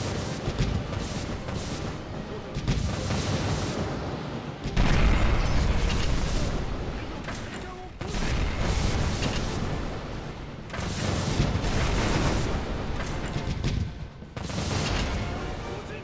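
Heavy naval gunfire in a warship video game, a 15.5 cm battleship gun and quick-turning 7.62 cm high-angle guns firing on a battleship and destroyers: loud booming salvos in repeated bursts with brief lulls, continuous rumbling explosions throughout.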